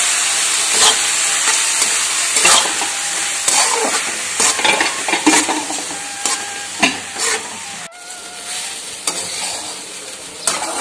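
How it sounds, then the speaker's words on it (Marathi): Puffed rice stir-fried with fried onion, turmeric and salt in a pan, loud steady sizzling hiss broken by repeated scraping stirs of a spatula, no voices. "आता त्याच्यात आपण हे कुरमुरे घालूया आणि व्यवस्थित मिक्स करून घ्यायचं आहे."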